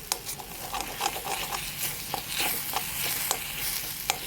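A spoon stirs egg and grated coconut thoran with pumpkin leaves in a pan, giving repeated scraping strokes over a soft continuous sizzle, close and steady.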